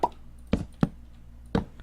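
Short pops from a Minecraft chicken in a modded survival game, three sharp little bursts spaced unevenly over a quiet background, close and fairly clear.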